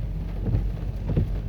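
Steady rain falls around a vehicle stuck on a road in British Columbia during wildfire season, a dense low wash of patter with a rumbling undertone, continuous and fairly close, no voices.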